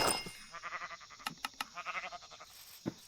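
A baby sheep in a block-building survival game bleats in a rapid run of short, wavering cries, fairly quiet and alone, with a couple of faint clicks.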